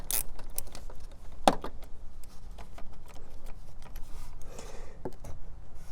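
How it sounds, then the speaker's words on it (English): A 10mm wrench loosening the negative battery terminal on a 2020-or-newer Toyota Corolla, faint metallic clicks and small jangling taps scattered close by, with one sharper clink. "get your 10mm wrench and loosen the negative terminal first."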